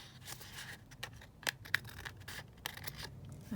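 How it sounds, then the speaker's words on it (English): Scissors snip through the edge of a fabric scrap in a few sharp, close cuts, with soft rustling of cloth in between, quiet and without talk. "I'm just going to just trim that edge down so it looks a little bit straighter"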